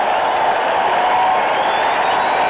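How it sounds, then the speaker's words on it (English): A packed crowd at a 1987 Red Sox–Mets Jimmy Fund exhibition baseball game gives Bill Buckner a loud, sustained, mocking ovation, with applause and cheers blending into a dense, unbroken roar throughout. "I have seen sarcastic applauses before, but none more so than this greeting for Buckner."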